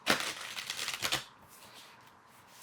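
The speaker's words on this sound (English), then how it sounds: "All right, one more shuffle." A deck of cards is riffled in a quick, crisp flurry lasting about a second, followed by a faint settling sound in a quiet room.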